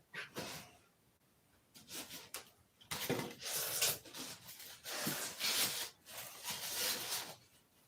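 Hand sanding on wood, a series of rough, scratchy strokes in bursts of varying length with short pauses between, close and fairly loud, no speech.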